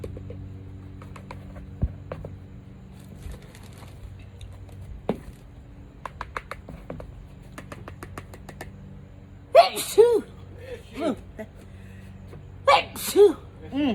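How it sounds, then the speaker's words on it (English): A couple of sharp sneezes near the end, loud and close, following a quiet stretch of faint clicks and handling noises. "That powder's making me sneeze."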